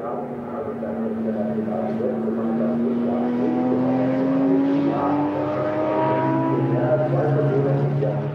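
Frikadelli Porsche race car at the Nürburgring 24 Hours, engine note droning steadily and loud throughout with slowly rising pitch as it accelerates past, with faint commentary underneath.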